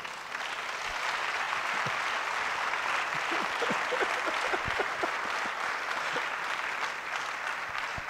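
A church congregation at a Sunday service applauds steadily for several seconds, dense overlapping claps filling the room at moderate volume with a few louder individual claps standing out.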